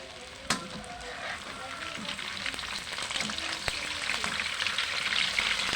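Garlic hits a hot pan for tofu sisig and sizzles loudly and steadily, the hiss building in strength after a sharp click at the start, with scattered light pops.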